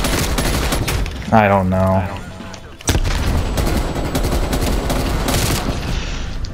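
Loud, dense gunfire from the Call of Duty Cold War video game rattles through nearly the whole stretch, broken by a brief lull, with someone talking excitedly over the shooting.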